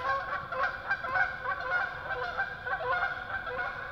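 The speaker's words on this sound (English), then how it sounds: "A whole flock of geese just flew down in the pond." A flock of Canada geese honks continuously as they come down onto a pond, overlapping nasal calls forming a dense, steady chorus at moderate distance.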